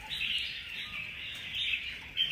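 A songbird sings a continuous, high-pitched twittering call up close, bright and steady, with a louder chirp at the end and no talking.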